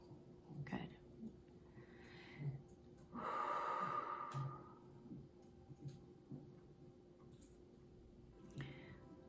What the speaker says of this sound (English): Inhale again and suspend it and hold it in. And hold it and exhale.